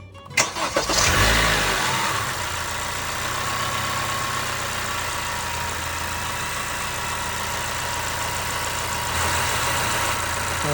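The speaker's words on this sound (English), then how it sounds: "Now we're gonna go ahead and start the car to make sure there's no missing, no misfire." A 2015 Honda Accord, fresh from a spark plug replacement, cranks and catches with a short rough burst, then settles into a steady, even idle that holds close and loud throughout.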